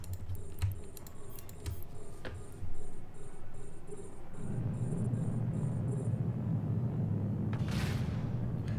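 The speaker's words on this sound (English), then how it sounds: "That's the sound of the tracking disruptor" A tracking disruptor module firing in Eve Online during low-sec ratting: a row of evenly spaced high electronic pulses repeats for several seconds over a steady low rumble of space ambience, followed by a brief bright burst near the end.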